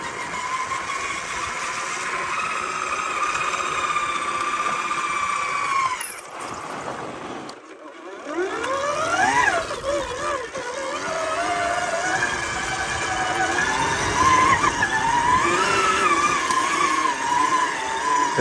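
An Electric Motion Escape R electric trail bike rides off-road, its motor giving a continuous high-pitched whine that rises and falls with throttle, cutting out briefly before surging again over a climb, with no engine roar.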